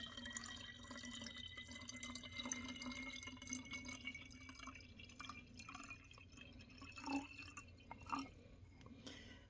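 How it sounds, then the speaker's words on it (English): Liquid trickles and drips steadily as it is poured into a plastic spray bottle at a work table, a soft continuous pour with a few louder splashes near the end and no talking. "I know you can't see me pouring it in there"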